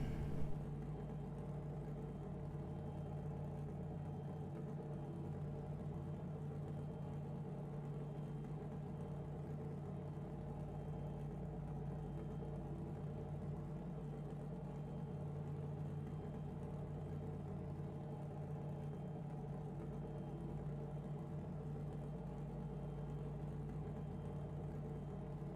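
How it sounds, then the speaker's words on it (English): A Lexus race car engine in the video game Assetto Corsa Competizione at Monza, a faint, steady low hum with constant pitch running throughout, no talking. "I don't know if you can hear my engine."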